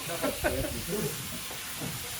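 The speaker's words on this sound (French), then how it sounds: "La friture du poulet" Chicken pieces fry in hot oil during a Christmas evening cooking session, giving a steady soft sizzle and hiss throughout, with faint voices talking quietly underneath.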